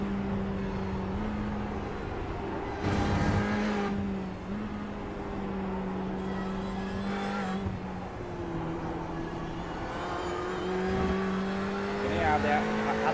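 Ferrari race car in a racing video game, engine droning and shifting pitch continuously with short bursts of acceleration, heard close throughout with talk over parts of it.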